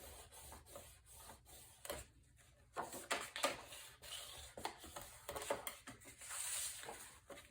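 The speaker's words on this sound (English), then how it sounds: "line everything up so it's straight and burnish this down" A paper flap being burnished down onto a mini album page, faint irregular rubbing and scraping strokes close by, quiet and alone.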